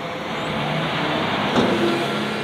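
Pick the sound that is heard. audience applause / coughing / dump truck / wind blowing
dump truck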